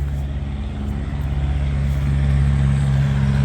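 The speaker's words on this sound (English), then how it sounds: "Certainly busy road here." Steady low rumble of vehicles on a busy road near the A4019, with a constant engine drone and tonal hum from passing heavy traffic, close and continuous, no voices.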